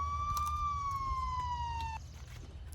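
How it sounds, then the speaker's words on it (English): A single siren wail, a steady slightly falling tone held for two seconds before cutting off, over low traffic rumble at a moderate distance. "sirens were heard approaching from the neighboring street"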